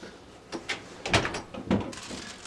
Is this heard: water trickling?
no